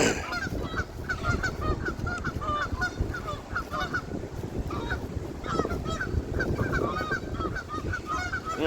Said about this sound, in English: Canadian geese and their arguments.